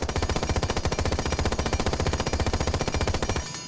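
Sustained automatic fire from a PDW in Rainbow Six Siege, a fitted compensator and vertical grip, a rapid, steady stream of loud close shots running unbroken for several seconds before cutting off at the end.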